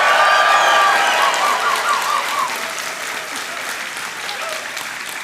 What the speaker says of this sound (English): that's an impressive cheer